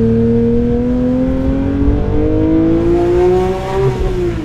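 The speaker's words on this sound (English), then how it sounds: "Crack the window down a little bit, let some of that 4-liter flat six blasting through the window into our face." A 4-liter flat-six engine in a 2022 Porsche 992 GT3 Touring with manual gearbox, heard loud through an open window, its tone climbing steadily as the car accelerates.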